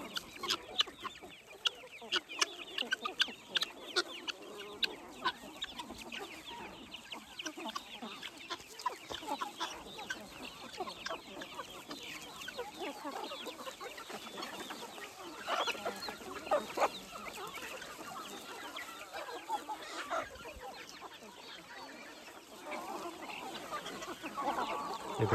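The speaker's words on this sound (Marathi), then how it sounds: "पूर्ण अर्धा एकर मध्ये मुक्त संचार गावरान कोंबडी पालन आपलं." Free-range country chickens cluck and murmur in scattered bursts across half an acre of farmland, faint and spread out at a distance, with no voices.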